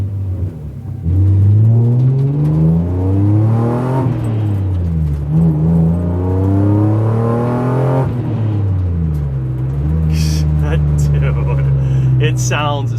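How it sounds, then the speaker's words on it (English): A BMW E36 M3 with the S52 engine and a Bimmerworld 3-inch race exhaust with no cats revs loudly and close, with rising and falling pitch sweeps through gear changes. The engine runs continuously the whole time and no one speaks. "this is the Bimmerworld race exhaust. So 3-inch all the way back, no cats."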